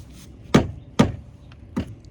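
The wooden part of a hammer taps a Timbertech composite decking board into its groove while a built-in bench is being built: three firm, close knocks about half a second apart and one fainter tap.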